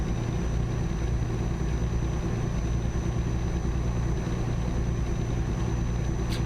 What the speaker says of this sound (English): the Scania, even though it's one of the old ones, it's a real good sound